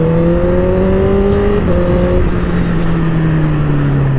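Honda CBR 1000cc motorcycle engine held high on the throttle, a loud, close, sustained tone that dips briefly and then slowly sags in pitch as it winds down.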